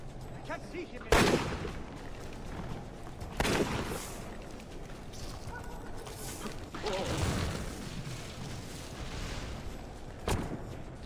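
Gunshots from enemy riflemen in Assassin's Creed Revelations ring out as a few sharp, loud cracks spread across the stretch, set against steady game ambience and a bed of background noise.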